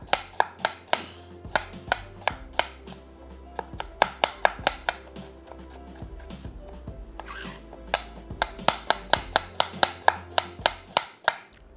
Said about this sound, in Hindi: एक अदद दरमियानी प्याज और उसको हमने बारीक बिस्मिल्लाहिर्रहमानिर्रहीम चॉप कर लेना है